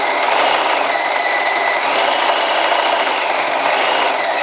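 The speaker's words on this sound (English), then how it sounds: "do you see how the bag is rotating around the free arm of the sewing machine?" A sewing machine stitching a fabric backpack runs continuously at a steady, fast whirring pace, close and fairly loud, with no voices.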